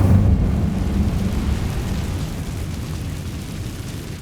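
Incendio fire spell cast in Hogwarts Legacy, heard as a loud, sustained low roaring burst that rumbles on for several seconds, then slowly thins, with no talking.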